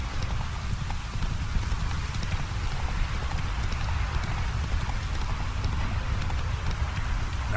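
A horse galloping through rain in The Witcher 3, with a steady patter of rainfall and rhythmic hoofbeats running throughout at constant loudness.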